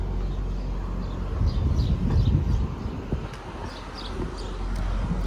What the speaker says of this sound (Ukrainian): Ви слухаєте, пташки співають.